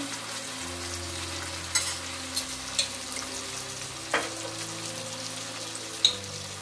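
Chili sauce goes into a pan of frying raw jackfruit kofta, bringing a steady soft sizzle with a few sharp stirring clinks and taps along the way, close and without talk.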